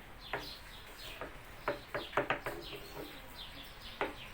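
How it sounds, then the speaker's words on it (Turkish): Faint, scattered clucks and short chirps from chickens wandering a village garden sound over a steady outdoor hiss, some distance away. "Tavuklarımız burada dolanıyorlar."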